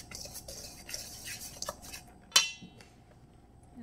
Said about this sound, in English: So we're just going to mix up our dry ingredients.